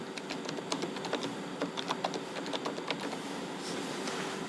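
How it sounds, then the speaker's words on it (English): Rapid, uneven clicking of keys on a computer keyboard as a patient's name is typed into an OCT eye-scanner's software, close and fairly quiet, with no talking. "We have to type the patient name"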